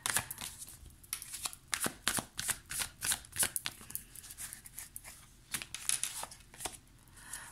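Oracle cards being shuffled by hand, a fast, close run of crisp riffling and flicking bursts that continues almost the whole time, with no speech.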